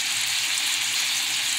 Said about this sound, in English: so I'm browning the cooked ground beef on here